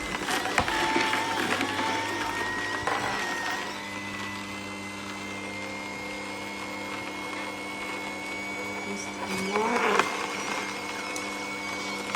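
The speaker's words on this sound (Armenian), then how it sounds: "Ուզում եմ անպայման փորձեմ, տեսնեմ կոճապղպեղ կարող է աղալ, թե ոչ։" A newly bought electric juicer grinds fresh ginger, giving a loud, steady motor whine with a constant drone throughout and a brief surge near the end; no one speaks.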